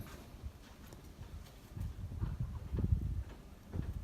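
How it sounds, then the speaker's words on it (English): A horse's hooves clip-clop at a distance during trailer loading, an uneven trot growing busier midway, with no voices. "Little horse in the background running around caught her attention."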